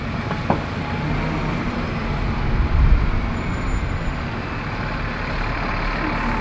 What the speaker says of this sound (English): And a school bus coming up.